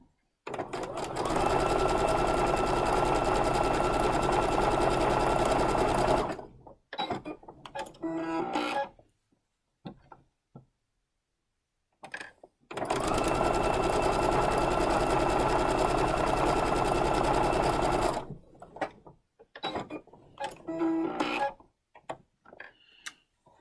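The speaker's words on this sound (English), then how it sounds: "So while you're waiting, I'm going to sew mine." A sewing machine stitches quarter-inch seams on quilt block fabric, two long steady runs of fast whirring stitching separated by short pauses with small clicks and fabric handling.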